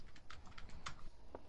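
Computer keyboard keys clacking in quick irregular bursts during a Fortnite gaming session, close and fairly quiet, with no voices.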